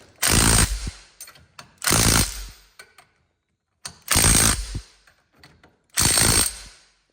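An impact wrench fires four loud bursts tightening lug nuts on steel wheels fitted with wheel adapters, each burst about half a second long, separated by pauses and faint handling noises.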